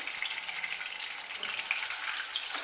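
Fish frying in a pan for a Punjabi-style fish curry, a close, continuous crackling sizzle with dense spattering pops and no talk.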